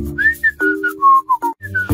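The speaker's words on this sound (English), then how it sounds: "Who's that kid that's whistling?" A person whistles a short melodic tune, loud and close, in clear separate notes of varying length, with nothing else under it.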